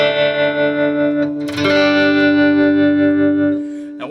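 A clean electric guitar through a Fender-style tremolo and spring reverb plays sustained, shimmering chords with one change partway through, the ringing tail swelling and fading with no talk.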